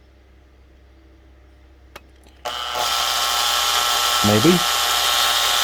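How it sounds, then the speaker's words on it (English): A power drill spins up suddenly and bites into the housing of a CB radio with the circuit board still in place. It runs as a loud, steady, close whine after a click. A voice briefly speaks over it. "drill it with the circuit board in situ"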